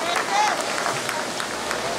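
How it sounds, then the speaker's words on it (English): Brief audience applause at a junior livestock show, a short burst of steady clapping from the crowd with a voice speaking over it. "These kids deserve a round of applause."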